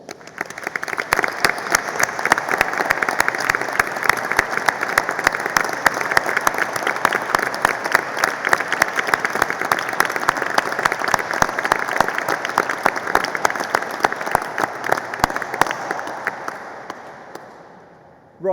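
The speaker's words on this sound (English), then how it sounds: "give them a big round of applause" A graduation ceremony audience in Ely applauds, sustained dense clapping from a large crowd that fills the hall steadily for about seventeen seconds before fading.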